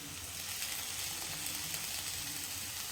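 Chopped tomato goes into a frying masala for a drumstick (shevga) curry, setting off a steady, moderate sizzle with faint stirring scrapes throughout, close by and without voices.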